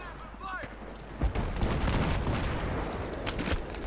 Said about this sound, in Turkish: Oha sağdan biri vuruyor.